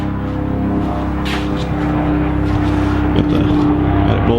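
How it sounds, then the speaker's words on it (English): A propeller plane flying overhead outside a garage where a Chevrolet C10 seat is being lowered, heard as a steady, loud droning engine hum that fills the whole clip with a sustained low tone and no talk. "apologies for the plane flying over"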